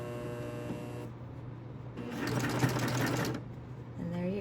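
Serger sewing machine stitching in bursts, a fast mechanical whir starting and stopping under a steady hum, close and moderately loud.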